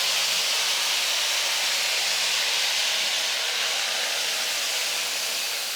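Ground spicy chutney paste hitting hot oil in a pan sputters into a loud, continuous sizzling hiss that holds steady for several seconds without any talk.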